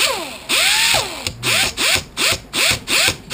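A power tool scuffs an aluminum plate to rough its surface before epoxy bonding, working in a long first pass and then in short repeated bursts of whining grinding, close and loud.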